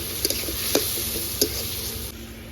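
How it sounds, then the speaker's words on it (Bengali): A masala paste of red chilli powder, green chillies, whole garlic and coriander powder, made for a silver carp fish curry, sizzles steadily in a pan. A couple of soft stirring scrapes cut through the constant frying hiss. "সব কিছু দিয়ে খুব ভালো করে মশলাটা কষাতে হবে"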